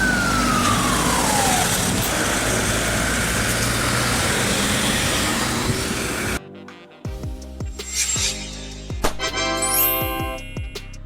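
An ambulance siren from San Marino, on a Fiat Ducato, Mercedes-Benz Sprinter or Volkswagen Crafter, wails loudly over steady engine and road noise, then gives way to a sharper stretch of tonal siren and horn blasts.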